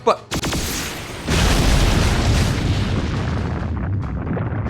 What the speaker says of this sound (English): somebody is firing magical energy blast at us from our 6 o'clock